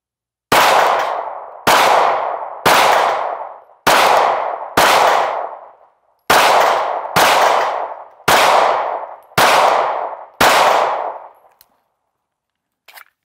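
An IWI Masada handgun fires at small steel plates 15 yards out, about ten loud sharp shots, each followed by a ringing metallic clang that fades, spaced roughly a second apart with a brief pause midway.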